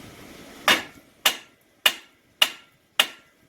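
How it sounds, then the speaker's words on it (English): Five sharp metallic hammer blows strike the tie rod and steering hub of a 2004 Ford F-350 Super Duty, evenly spaced about half a second apart, close and loud over a quiet background. "go ahead and get yourself one of these smacking tools or a hammer."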